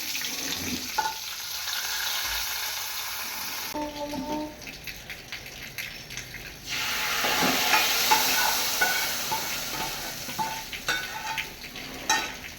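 Hot tempering of mustard seeds, dried chillies and curry leaves in oil poured into a curry, giving bursts of loud sizzling and crackling with stirring and clatter, fading to quieter spitting between surges.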